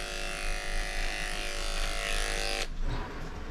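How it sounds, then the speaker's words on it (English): An electric clipper buzzes steadily and loudly, close up, while grooming a matted cocker spaniel's ear, then cuts off abruptly near the end, leaving faint rustling. "we're just letting the clipper do its work as best we can and kind of just gliding over"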